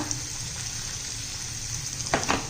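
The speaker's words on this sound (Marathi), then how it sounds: "हळद घातली आहे पाव चमचा हे सर्व छान परतून घेऊया मसाला" Spice masala with turmeric and home-ground spices being sautéed in a pan, a continuous moderate sizzle with faint water-like hiss, near, plus a couple of quick clinks toward the end.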